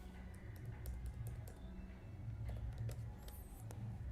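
Dart code being typed on a computer keyboard, a quiet, steady patter of rapid keystrokes in short bursts with no talking.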